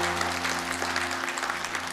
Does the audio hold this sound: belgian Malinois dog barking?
no